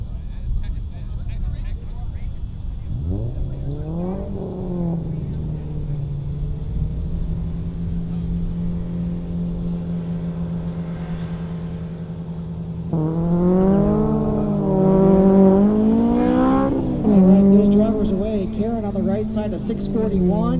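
A Honda S2000 and a Subaru launch in a drag race at a strip, engines climbing through rising revs in bursts, then roaring louder, while an announcer talks throughout.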